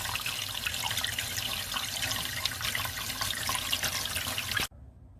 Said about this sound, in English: I've literally just put salt and warm water and I'm going to leave it here to sit